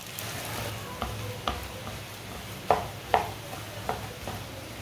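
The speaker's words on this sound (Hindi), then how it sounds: "मसालों को 1 मिनट के लिए मैंने पका लिया है।" Spices cook in a pan, with a low steady sizzle beneath repeated light scrapes and taps of a utensil mixing them, close and fairly quiet.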